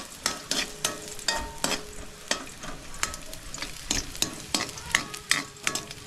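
Garlic frying in hot oil for spaghetti sauce, a continuous crackling sizzle punctuated by regular sharp scrapes and taps of a spatula stirring in the pan, close and fairly loud.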